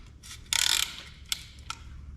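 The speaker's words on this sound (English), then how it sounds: "to install our ring compressor, we just slide it over the piston like that" A piston ring compressor being slid onto an engine piston and tightened, a close metallic rasp followed by a few sharp clicks like a ratchet, alone and fairly quiet.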